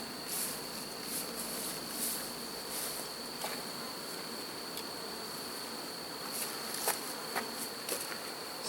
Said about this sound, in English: I'm going to push these bees off in front of their hive.